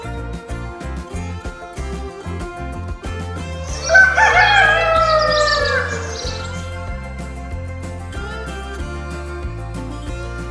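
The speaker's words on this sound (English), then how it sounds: "This simple mod adds rooster crowing sounds in the morning and wolf howling sounds in the evening to the game." A rooster crows once midway through, from a Minecraft mod that adds morning crowing to the game, rising loud over steady background game music.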